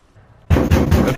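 Suppressed gunfire in Modern Warfare 2 Remastered, a sudden burst of a few muffled, thudding shots in quick succession after a near-silent moment.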